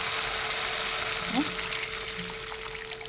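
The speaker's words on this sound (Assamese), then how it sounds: "ইয়াতে এতিয়া মই পানী দি দিম।" Water poured into a pan of frying tomato and peas, a steady sizzling hiss that swells briefly with a splash and bubbling, then settles back into constant frying noise.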